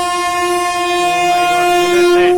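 A Vande Bharat train sounds its horn in a loud, sustained multi-tone blast as it passes close by, with rail rumble underneath and no talking.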